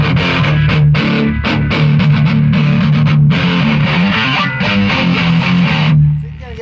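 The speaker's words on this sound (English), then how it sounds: "Back to the overdrive." An electric guitar played through an Anderton Super Tone Control DIY pedal set to overdrive gives a loud, gritty distorted tone, with a steady run of strummed and picked notes that rings out and fades at the end.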